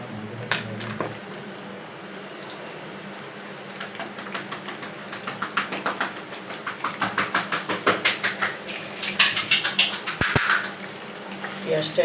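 Chopped onion, previously kept in a deep freezer, frying in hot oil for a village-style chicken bhuna: a steady crackling sizzle that grows into denser, louder spitting pops toward the end.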